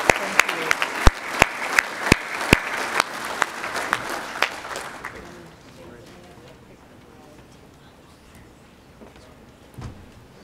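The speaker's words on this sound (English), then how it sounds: "one more round of applause for the folks" Audience at a 2017 Dairyland annual meeting breaks into dense, lively applause with sharp individual claps, which tapers off after about five seconds into a quieter room with faint scattered sounds.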